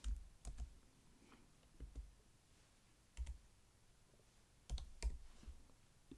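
Typing on a computer keyboard while renaming a file, heard as faint, scattered clicks and short bursts of keystrokes over a quiet background.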